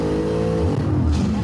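A 1000 hp turbocharged Trans Am cruises at light throttle, its engine a loud, close, smooth burble whose pitch eases down briefly, as if through a gear change.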